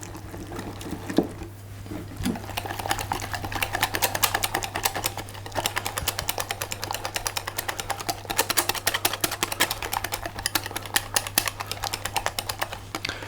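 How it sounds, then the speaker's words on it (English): Plain flour and water are whisked into a paste for hot cross bun crosses, a rapid, close clicking and tapping of the whisk against the bowl that keeps up in quick, irregular bursts. "And I'm just going to whisk that together into a paste."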